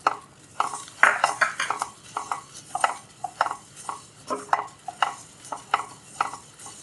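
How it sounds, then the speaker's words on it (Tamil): Coriander dry-roasting in a pan gets stirred in a steady rhythm of scraping, rattling strokes, close and fairly loud, with a faint dry sizzle between them and no talking. "நல்லா கொஞ்சம் வாசனை வரும் வரைக்கும் வறுக்கணுங்க"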